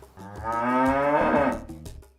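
A single long, loud cow moo from cattle on a small farm that also grows vegetables, napier grass and potatoes, rising and falling over about two seconds, close and clear with no talk.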